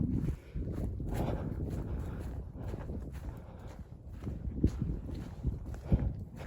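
Wind blows steadily across a frosty, ice-coated ridge in the Smokies on a cold day, a broad, rushing gust noise buffeting close to the microphone with a few sharper knocks and rustles.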